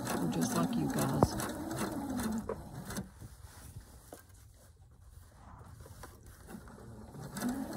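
A sewing machine stitches in reverse, giving a fast mechanical whir and clatter that fades and returns, heard under a woman's speech.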